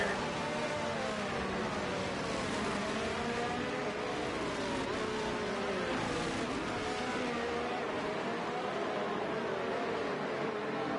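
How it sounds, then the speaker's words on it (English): Race cars running in a pack behind the safety car at Imola in Italy during a sim-racing league round, a steady blended drone of engines that holds loud and continuous throughout with no pauses. "So safety car out on the second lap here at Imola racing track"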